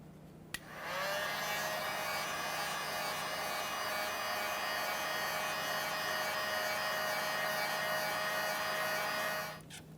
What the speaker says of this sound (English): We'll just gently use a heat gun here.